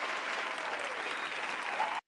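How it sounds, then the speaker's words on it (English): Dense, steady applause from a crowd cheering a boxer's performance at a fight, continuous for about two seconds and cutting off abruptly, with no talk over it. "We gotta give that man another round of applause for that."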